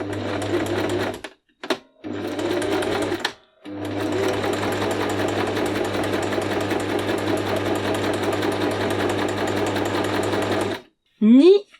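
A Silvercrest SNM 33 C1 sewing machine stitches through four layers of fabric in loud, steady, close mechanical bursts, with brief pauses between runs and a short whirr at the end.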